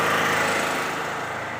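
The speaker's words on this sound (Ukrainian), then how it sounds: "Він повинен попрацювати, ну, хоча б хвилинки дві-три в холосту." An engine on a small farm idles to warm up, a steady, fairly loud mechanical drone with a rapid pulsing chug and no voices over it.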